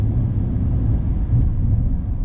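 A Rolls-Royce Phantom accelerates. From inside the cabin, a deep, steady, muffled engine and road rumble holds evenly throughout, smooth and subdued rather than loud.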